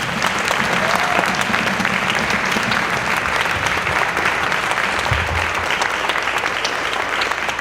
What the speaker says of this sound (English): let's give those players and these students a big round of applause.